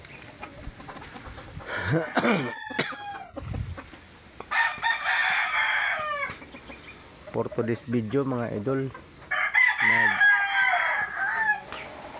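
Chickens and roosters in a coop crow repeatedly and cluck nearby, with several loud crows spaced through, someone talking briefly over them.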